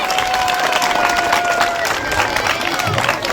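Dense applause at a school farewell ceremony for a staff member fills the room with steady clapping and crowd noise, and voices can be heard amid it.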